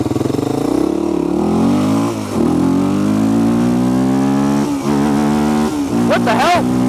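A short bus engine runs steadily and climbs in pitch as it accelerates through the gears, loud and continuous, with brief dips at the shifts and a voice briefly heard near the end.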